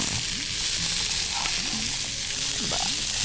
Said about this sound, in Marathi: थोडंसं आपण परतूया बारीक गॅसवरती मंद वरती